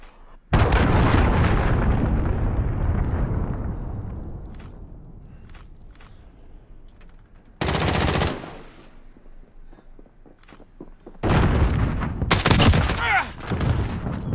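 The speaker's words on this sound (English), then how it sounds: "Enemy cruise missile incoming." Cruise missile explosions in Call of Duty Modern Warfare: a huge close blast that rumbles away over several seconds, then two more sudden heavy bursts, with faint scattered crackles and steps between them and no talking.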